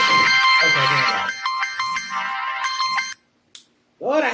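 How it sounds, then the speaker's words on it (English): A phone alarm rings loudly in a steady, repeating electronic tone for about three seconds, then cuts off, and a voice starts up just afterward. "doggone alarm"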